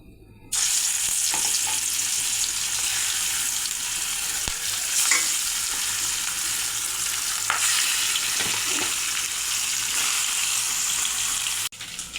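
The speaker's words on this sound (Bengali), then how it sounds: "তা এখন আমি মাছগুলো ভেজে নেব।" Steady, loud hiss of turmeric-and-salt-coated fish frying in hot oil, a continuous crackling sizzle that runs nearly the whole time, with a few faint scrapes along the way.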